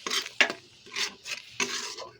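Soya chunk curry is stirred in a pan after black pepper goes in, giving a few short, close scraping strokes separated by brief pauses.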